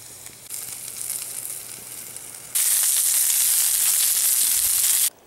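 Breakfast frying on an EcoZoom Versa wood stove, a moderate sizzle that suddenly swells into a loud, bright, steady hiss for a few seconds before dropping away.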